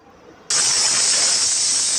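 A pressure cooker whistle bursts on abruptly after brief quiet, a loud, sustained high steam hiss that holds steady until the end.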